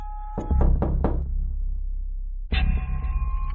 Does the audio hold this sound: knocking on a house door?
yes